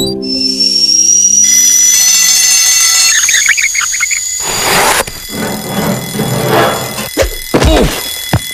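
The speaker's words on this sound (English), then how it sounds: "There, the Ted Glenn fully automated get-you-up machine." A cartoon automated wake-up contraption goes off with a loud, sustained squealing whistle and alarm tone, then bursts into clattering mechanical thunks and bangs toward the end.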